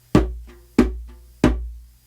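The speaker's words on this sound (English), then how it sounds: "It's a lovely muffled note that we can use sometimes in music" Three muffled, dull djembe thumps, the head patted or pushed into, evenly spaced about two-thirds of a second apart, each quickly dying away with little ring.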